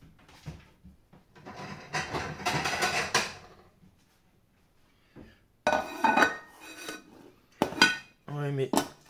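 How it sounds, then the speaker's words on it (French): A plate is taken and handled while making a chocolate charlotte, giving clattering bursts of dishware and cutlery knocks separated by quiet pauses, with a few closer clinks near the end. "Allez, on prend une assiette."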